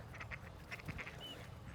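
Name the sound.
ducks quacking at Kitsilano Beach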